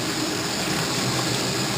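A kitchen tap runs steadily into a container of wheat being rinsed, giving a constant, close, rushing splash with no breaks and no talk over it.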